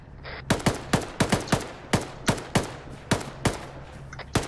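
Gunfire crackles in a military tactical team-versus-team game set in Zagoria, with about a dozen sharp, loud shots fired in irregular bursts and no talk over them.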